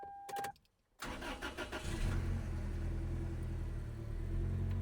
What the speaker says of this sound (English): let's go ahead and start this car up.